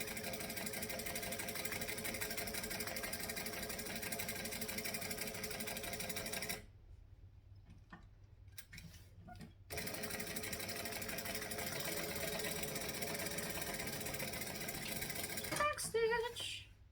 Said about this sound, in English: What you don't want to do is rush your top stitching